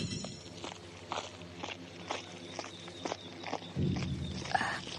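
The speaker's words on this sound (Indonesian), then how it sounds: "Suara langkah kaki, tapi tidak ada orangnya." Footsteps of an unseen walker in a radio drama, a series of soft, evenly paced treads at moderate distance, followed near the end by a heavier rustling thump.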